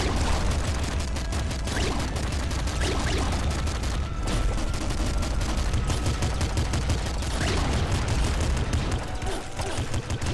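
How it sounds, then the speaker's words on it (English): A heavy machine gun fires continuously in the video game Nuclear Throne, dense rapid bursts of loud gunshots with booming impacts packed together from start to finish. "It's gonna take us a while to get through these with a heavy machine gun."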